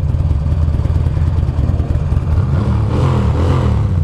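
A 2009 Buell Lightning Long XB12SS motorcycle engine idles up close in a loud, steady, lumpy low rumble that throbs evenly throughout.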